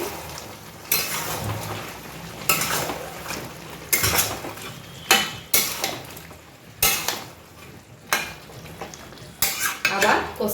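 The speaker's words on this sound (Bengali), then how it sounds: "আমার চিকেনটাকেও মাঝে মাঝে নাড়তে হবে তো নেড়ে দিচ্ছি" A metal spoon stirs chicken in a cooking pot on the stove, producing bursts of loud scraping and clanking strokes separated by short pauses and a low background hiss, close by and with no voices.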